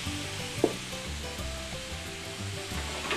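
Lemon-scented fillets of ombrina (shi drum) fish sizzle steadily in a pan as the pan is deglazed, a dense, close frying hiss with a brief sharp burst near the start.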